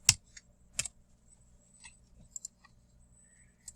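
Someone types a zip code on a computer keyboard at home: a handful of sparse, sharp key clicks, close and fairly quiet, with irregular gaps between presses and no talking.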